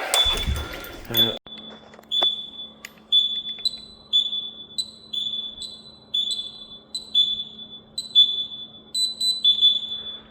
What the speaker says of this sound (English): there's the alarm going off